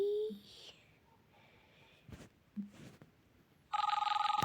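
After quiet rustling and a couple of soft knocks, a telephone in the Roblox game Brookhaven starts ringing loudly with a fast, trilling electronic ring.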